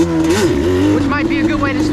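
Yamaha Banshee ATV engine revving lightly, a steady close idle-like drone that rises and dips with small throttle blips, with a voice faintly audible underneath.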